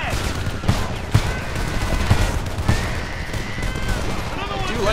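Rifle fire in the video game Homefront crackles in repeated bursts and single shots, loud and near, over a dense bed of battle noise.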